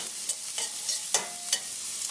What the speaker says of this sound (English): we have here some finely chopped garlic as well as onion. Just move that around a bit.